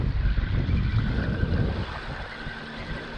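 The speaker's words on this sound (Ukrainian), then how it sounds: "і вітер такий ще піднявся" Wind gusts buffet the microphone at a carp feeder-fishing spot with low rumbling roars, easing off partway through into a quieter steady breeze.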